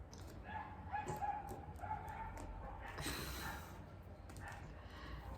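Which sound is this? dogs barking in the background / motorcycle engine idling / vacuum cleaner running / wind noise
dogs barking in the background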